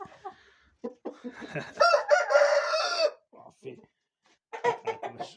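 Chickens cluck and a rooster crows loudly in a long sustained call, with more clucking bursts after a short gap, close by.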